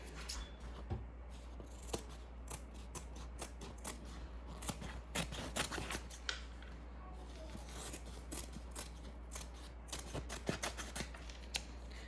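Scissors cut apart embroidered fabric in a quick series of sharp, close snips, irregularly spaced across a quiet stretch with no talking.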